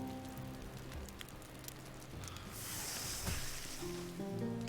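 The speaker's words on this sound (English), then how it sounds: "there's dynamic weather, which is kind of cool. Rain and wind and stuff can inhibit your ability to move around easily." Steady rain patters continuously in Valheim's dynamic weather, a soft, fairly quiet hiss of drops that swells slightly louder midway, with faint game sounds beneath.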